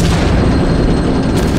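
Tank cannon and gunfire in Arma 2 Wasteland, a loud, dense, continuous roar of booming shots and rumble, close and overwhelming throughout.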